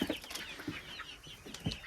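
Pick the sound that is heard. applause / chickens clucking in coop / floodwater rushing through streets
chickens clucking in coop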